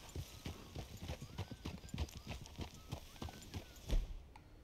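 In Red Dead Redemption 2, horses' hooves clop in a quick, uneven trotting rhythm, fairly quiet, with scattered soft sounds around them.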